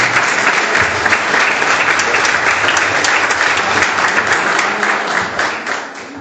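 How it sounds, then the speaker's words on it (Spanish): Loud, dense audience applause at a political forum in Bariloche, sustained clapping from a large crowd that holds steady throughout and eases slightly at the end. "El aplauso para ella, le pasamos el micrófono."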